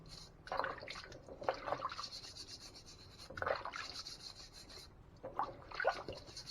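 Carrots being washed for carrot juice: soft wet rubbing and scraping in several short bursts separated by quiet gaps, close and faint, with a light drip of water and no talk.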